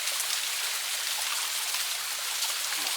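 A river waterfall pours steadily, a dense, even hiss of falling water that stays close and unbroken throughout.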